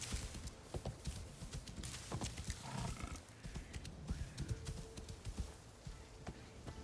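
Hooves of a mount ridden in Assassin's Creed Shadows, a rapid rhythmic clip-clop with irregular thuds under ambient game noise, moderately close and fairly quiet.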